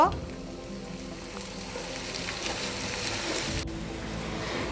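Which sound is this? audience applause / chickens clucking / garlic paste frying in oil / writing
garlic paste frying in oil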